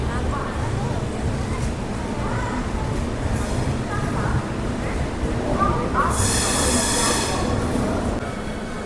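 The Visakha Express stands at Guntur Junction platform with a steady, loud rumble of rail noise and a brief high squeal near the end, heard close.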